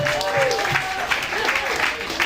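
A comedy club audience at a New York stand-up show claps and cheers in a dense wash of applause while a voice speaks loudly over it.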